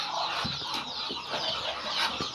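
Farm chickens cluck in short scattered bursts over a steady rushing background noise, moderately near, with no voices.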